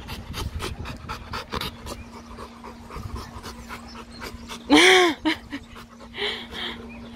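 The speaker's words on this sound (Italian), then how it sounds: "Eros, il cane abbracciatore di professione." A dog pants in quick, rhythmic breaths close to the microphone, broken by a short high whimpering sound partway through.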